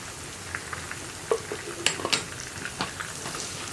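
Kashmiri chili powder fries in oil for a Kerala vadukappuli lemon pickle, giving a soft, quiet sizzle broken by a few light spoon clinks against the pan.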